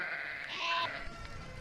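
Sheep bleating on open ground in Scotland near the Atlantic coast, a single drawn-out bleat rising and fading over about a second, heard fairly close with no talk.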